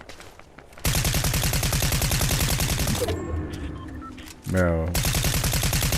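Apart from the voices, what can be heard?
gunfire in a video game (Fortnite)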